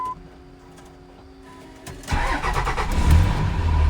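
A 2003 Dodge 3500 with a 5.9L Cummins diesel and six-speed manual cranks briefly, then catches at about two seconds and settles into a loud, rough, clattering idle, close by with no talking.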